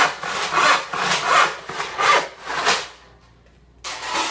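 A hand saw rasps through a wooden board along its length in steady back-and-forth rip-cut strokes, about five loud strokes, then a brief pause before sawing starts again.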